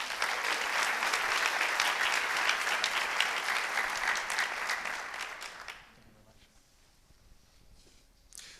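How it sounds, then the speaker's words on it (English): An audience at a senior honors night applauds honored students, with full, loud clapping for nearly six seconds that then drops away to quiet room tone. "A big round of applause for these students."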